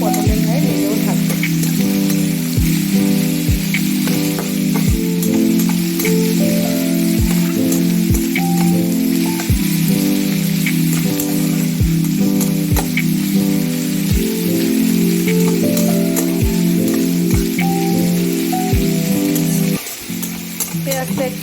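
Thinly sliced onion sizzles and fries steadily in hot oil for a Bengali potol (pointed gourd) dish, a dense continuous crackle with regular soft stirring knocks, loud and close throughout.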